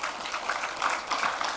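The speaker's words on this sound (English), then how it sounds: "Another round of applause for Mr. Williams" Audience at a symposium applauding, a soft, steady patter of clapping heard at a distance with no voices over it.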